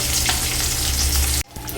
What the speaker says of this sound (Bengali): মাছের মাথাটা একদিকটা ভালো করে লাল করে ভেজে নেবার পরে আর এই দিকটা উল্টে দিচ্ছি